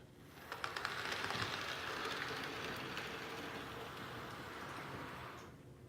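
A small HO scale model train rolls steadily past with a continuous rumbling whir and faint clicking of wheels over track joints, fading out at the end.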